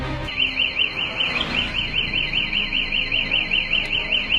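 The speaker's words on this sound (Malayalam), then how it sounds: "ബൈക്കിൽ നിന്ന് ഉച്ചത്തിൽ അലാറം മുഴങ്ങി" A loud electronic alarm from a police drug-detection motorbike wails in a fast, repeating up-and-down siren pattern, continuous and close, with no voices.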